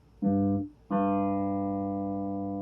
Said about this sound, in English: it does respond like a Wurlitzer piano